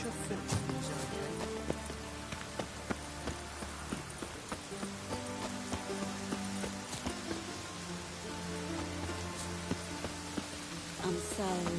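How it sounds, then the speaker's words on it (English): Rain falls steadily on city streets in The Witcher 3 video game, a dense wash of drops with hoof clip-clop and faint voices mixed in. "The rain will cleanse the city's streets."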